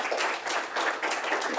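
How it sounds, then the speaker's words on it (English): Audience at a symposium giving a round of applause, many hands clapping in a brief, dense, even burst. "Give her a nice round of applause."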